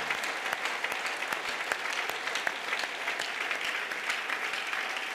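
A church congregation applauds together during a Sunday worship service, a steady wash of many hands clapping at moderate distance with no talk over it.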